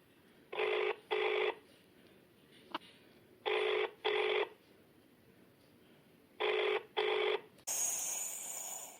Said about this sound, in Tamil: இப்போ வேற ஃபோன் ரிங் ஆகிட்டு இருக்கேன்